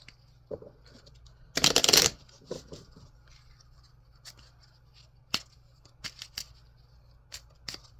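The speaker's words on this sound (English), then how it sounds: "One more shuffle here." A short burst of tarot cards being shuffled up close, followed by scattered light taps and handling sounds in an otherwise quiet room.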